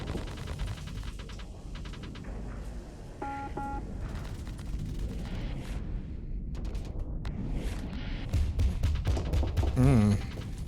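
Missile barrages firing during a space battle in Starsector, a steady roar of launches and impacts with sharp electronic bleeps and a rising swell near the end, no voices.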